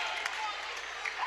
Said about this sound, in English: And this crowd in here is electric right now.